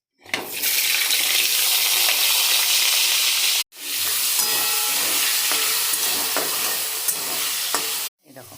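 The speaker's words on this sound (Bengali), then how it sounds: "এর মধ্যে এবার আলুগুলো দিয়ে দেবো।" Sliced potatoes dropped into hot oil for a Bengali sojne data aloo posto dish, giving a loud, steady sizzle that bursts in, cuts off briefly midway, then resumes before stopping abruptly.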